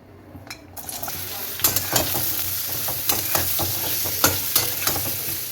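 Potatoes for aloo posto go into hot mustard oil in a wok with a loud burst of sizzling, then keep frying steadily while a utensil stirs and clinks against the pan several times.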